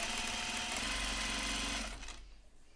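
A serger runs steadily, stitching seams on denim jeans, a loud continuous mechanical whir with rapid needle rhythm for about two seconds before stopping, leaving quieter room noise.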